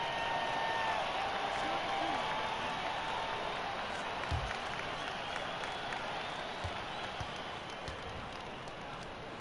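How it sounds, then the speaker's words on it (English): Video game crowd in NBA 2K19 clapping hard in an arena, a steady dense wash of applause and crowd noise that slowly fades, with a faint high whine and brief thumps underneath. "They clapping super hard right now."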